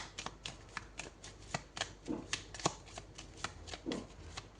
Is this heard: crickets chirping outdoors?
no